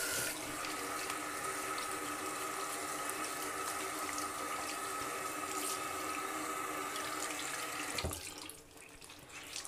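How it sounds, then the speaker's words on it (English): Cold tap water runs steadily into a sink to soak a beard blanket, a continuous close splashing stream that cuts off abruptly near the end, leaving quieter room sound. "soak this in cold water, wring the excess out"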